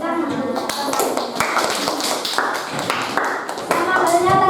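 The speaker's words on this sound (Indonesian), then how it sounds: "Tepuk tangan." Students in a classroom clap for a student group after an arts lesson on traditional dance, several irregular hand claps close by and mixed with children's voices talking over them.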